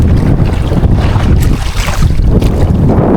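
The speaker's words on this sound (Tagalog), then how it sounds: "Hindi pa rin po talaga tumitigil yung yung hangin" Strong wind buffets the microphone in gusty blasts, with rushing water and a boat's hull noise beneath, at sea off Sta. Cruz.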